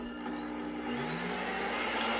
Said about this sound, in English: We're gonna go ahead and put it inside the blender.